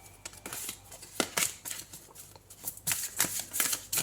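Tarot cards are shuffled and handled, giving quick papery riffles and slaps in uneven bursts close by.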